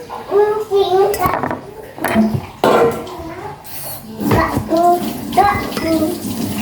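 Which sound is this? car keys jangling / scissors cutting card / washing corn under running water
washing corn under running water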